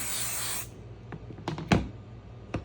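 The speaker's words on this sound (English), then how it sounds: "So I'm just going to go and spray a little light coating on here." A steady hissing burst of spray adhesive, applied as a light coating, lasts under a second, then stops, followed by a few scattered soft clicks and taps.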